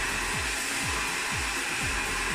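A hair dryer fitted with a nozzle blows steadily at close range while it dries hair over a round brush, a constant loud airy whoosh with a faint repeating low thump underneath.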